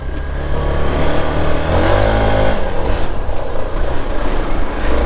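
Hero Xpulse 200 4V motorcycle engine revving hard as the rider tests torque for a wheelie, a loud, close rising and falling engine roar with no talk.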